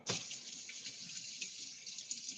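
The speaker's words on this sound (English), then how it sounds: "rinse this bowl out" Tap water runs steadily into a bowl being rinsed at a kitchen sink, a continuous close hiss and splash starting abruptly and flowing without pause for a couple of seconds.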